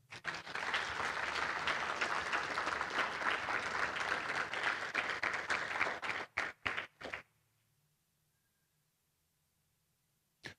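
Loud, sustained applause from a church congregation during a sermon for several seconds, then a few scattered final claps fading into near silence.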